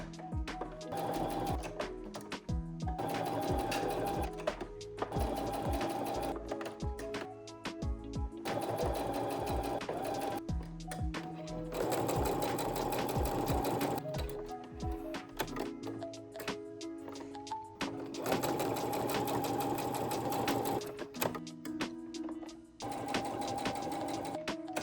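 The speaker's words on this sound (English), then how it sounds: "I think I'm gonna just sew up as many rows as I can" A sewing machine stitches quilt rows for a baby quilt in bursts of rapid mechanical whirring, stopping and starting several times with short pauses in between, close and clear with no voices.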